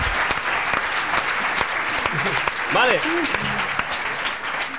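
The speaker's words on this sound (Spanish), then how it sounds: "Y un aplauso para Ignatius," Broad applause from a studio audience on a Spanish comedy show fills the clip steadily while someone talks briefly over it.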